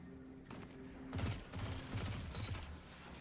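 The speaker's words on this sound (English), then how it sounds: "Yeah, I knew that was a good nade there" A Void grenade detonates in Destiny 2 during a Blink Warlock firefight, a rapid volley of crackling blasts and gunfire close by that lasts a couple of seconds, with no voice over it.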